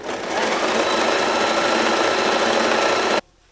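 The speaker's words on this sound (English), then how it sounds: "We're going to go ahead and serge and sew all the hems and edges so I don't have to deal with that later on" A sewing machine running steadily as it sews the hems and edges of a bridal garment, a loud continuous close-up whir that cuts off abruptly near the end, no voices.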